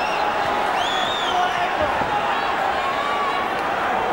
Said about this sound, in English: Just listen to this Belfast crowd now, screeching their support for their latest hero